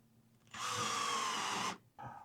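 A power drill drives screws into a wall for hanging storage baskets, whirring loudly for about a second, stopping, then giving a brief second burst, close by with no talking.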